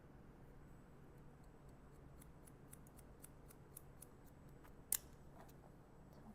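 Hair-cutting scissors snip repeatedly through the hair of a salon mannequin head in a quiet room: a close series of crisp metallic clicks, ending with one louder snap.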